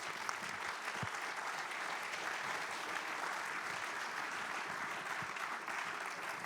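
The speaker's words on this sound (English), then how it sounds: "So if you could give them a bit of applause." Audience applause for a panel of speakers at an economics conference on globalisation, a steady, dense wash of clapping from a large room that holds evenly throughout without a break.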